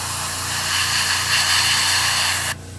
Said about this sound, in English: There's a little bit of overspray.